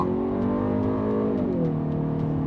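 A Kia Sportage picks up speed on a test track, its engine note rising steadily and then dropping as it shifts, a loud continuous drone close to the microphone with no talk.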